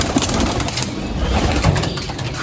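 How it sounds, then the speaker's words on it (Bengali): Pigeons coo close by as they are let out of their coop, a low burbling murmur over a steady background hiss. "এই সব বন্ধুরা আমরা বের করে দিচ্ছি পায়রাগুলো"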